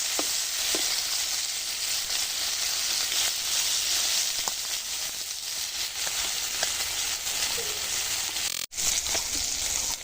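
Rui fish frying in a pan of hot oil, a steady close sizzle that runs with no break, alone with no talk.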